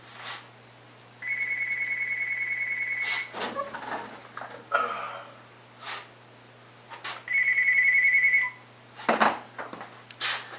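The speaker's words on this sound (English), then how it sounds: "that phone rings." A telephone rings in a workshop during a build session, two clear bursts of steady trilling ring separated by a few seconds of quieter room noise and small knocks, with no talking.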